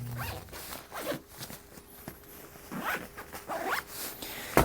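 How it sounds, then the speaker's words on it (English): A Peak Design compression packing cube being zipped closed, several short rasping zipper pulls in quick succession, close-up and clear, with no talking. "So we're zippering it up."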